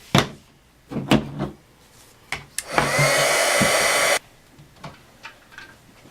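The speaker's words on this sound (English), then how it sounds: "And my white embossing powder. And I'm going to heat set that." A heat gun blows steadily for about one and a half seconds to heat-set white embossing powder on a stamped birthday card, loud and close, preceded and followed by light taps and handling clicks on a craft table.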